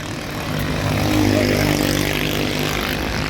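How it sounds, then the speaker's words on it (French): Busy road traffic in Morocco rumbles past as a steady, loud roar of engines, with a heavier vehicle swelling through the middle and no talking. "Un petit peu bruyant la route, je suis désolée."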